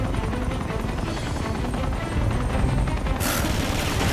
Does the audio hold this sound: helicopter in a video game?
yes